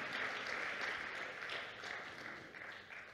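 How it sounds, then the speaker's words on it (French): A church congregation applauding during a sermon, continuous clapping at a moderate distance that swells slightly and then eases off, with no voices over it. "Vous pouvez applaudir, c'est la vérité."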